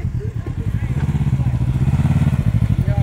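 A Can-Am Ryker three-wheel motorcycle rumbles along on a night ride in Chicago, its engine pulsing steadily and close, with voices talking over it.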